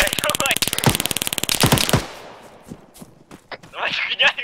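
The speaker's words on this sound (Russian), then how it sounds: "В воздух стреляй, давай!" Rapid machine-gun bursts from the ARMA 3 video game, shots fired into the air, come as a loud fast rattle of closely spaced cracks that stops abruptly, followed by a few scattered shots and some background voices.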